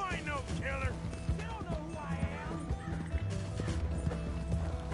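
Horse running in Red Dead Redemption 2, a steady clip-clop of galloping hooves with occasional whinnies, heard under continuous game music and someone talking.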